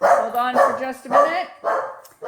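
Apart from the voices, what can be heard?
dog barking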